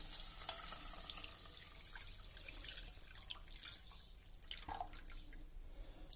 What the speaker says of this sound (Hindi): अब हम इसमें जो स्ट्रेन किया हुआ वाटर है वो डाल देंगे।